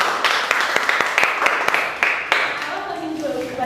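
An audience at a French public-speaking training session breaks into applause, a run of irregular sharp claps for a few seconds that thins out as a voice begins talking.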